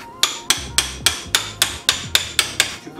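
A large chisel struck by a hammer to separate a Peugeot 206 front suspension joint, ringing out in about ten sharp, close metallic blows at a steady, even pace.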